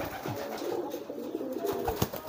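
Young pigeons coo in a steady run of soft, throaty, rolling calls during courtship, close by and fairly clear, with a few light knocks and rustles in the background and no speech.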